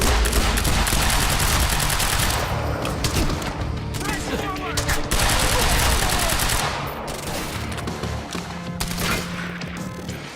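Rapid bursts of automatic gunfire in a shooter video game, loud and dense, with continuous clatter and shots over ten seconds; a voice shouts in game under the firing.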